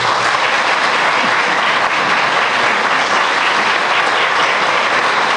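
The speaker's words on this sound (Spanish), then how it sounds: "agradecerles al coro polifónico Guillermo Farabolini con este aplauso" Loud, sustained applause from a crowd at a civic anniversary ceremony in San Pedro, Argentina, thanking a polyphonic choir after the national anthem; a dense, uniform roar of clapping hands, close and continuous with no talk.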